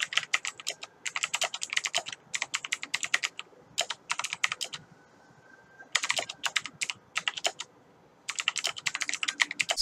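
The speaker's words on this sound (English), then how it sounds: "So instead he's typing down in the comments" Rapid bursts of computer keyboard typing, close and crisp, with short pauses between flurries of keystrokes.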